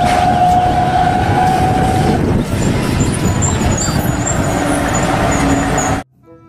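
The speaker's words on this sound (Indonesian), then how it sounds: "Mobil derek." A toy tow truck sound effect: a loud, steady truck-engine roar with a high tonal whine riding on top, lasting about six seconds before cutting off abruptly.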